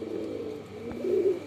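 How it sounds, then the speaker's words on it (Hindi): A Madrasi pigeon with deep-set eyes coos softly at close range, a low rolling call rising briefly near the end over a constant background hum. "ये रहा जी अपना फेवरेट कबूतर"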